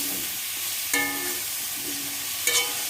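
Cumin paste sizzles steadily in hot oil while spices fry for a vegetarian gati kochu curry, with two brief sharper clinks of stirring over the constant hiss.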